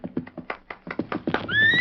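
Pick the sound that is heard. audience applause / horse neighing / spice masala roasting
horse neighing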